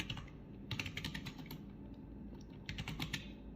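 Typing on a computer keyboard while writing a short Java program, with quick clusters of close key clicks in bursts, a brief pause in the middle, then more rapid keystrokes.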